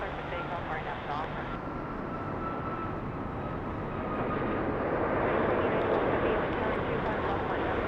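An airliner takes off from runway 25 right at LAX, its jet engines making a loud, broad, continuous roar that swells steadily as it gathers speed, with faint voices underneath.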